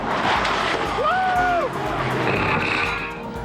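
A Subaru Impreza 2.5 RS WRC rally car roars loudly and steadily at speed, its engine note briefly rising and falling in pitch.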